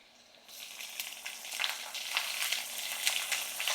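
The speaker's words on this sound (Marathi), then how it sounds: "फोडणी हलकीशी लाल झाली ना की आता आपल्याला ह्यामध्ये कांदा टाकायचा आहे." Finely chopped onion drops into a lightly reddened tempering in a pan, and the faint background sizzle swells at once into a steady, crackling fry that continues with small pops.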